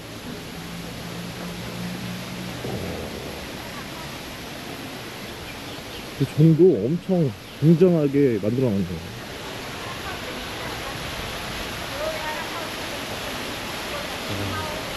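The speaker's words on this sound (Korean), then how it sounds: "물소리만 들어도 시원해" Steady broadband rush of a waterfall near Chiang Mai, continuous throughout, with a person speaking briefly in the middle.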